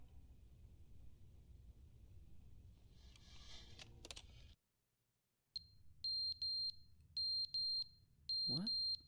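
A fire alarm beeps in The Stanley Parable, a video game, sounding as a series of loud, piercing electronic beeps in short repeated bursts after a brief silence, with faint background noise around it.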